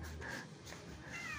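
A cat at a market meows faintly, a couple of thin, drawn-out cries heard against steady background noise.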